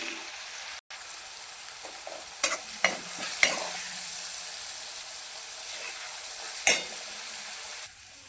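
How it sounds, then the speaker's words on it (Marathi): Green chili paste frying in hot oil in a kadhai with cumin and mustard seeds: a steady sizzle, broken by a handful of sharp stirring scrapes. Close and moderately loud, with no talk. "यानंतर मिरचीचे वाटण टाकून घेऊया आणि चांगले तेलामध्ये फ्राय"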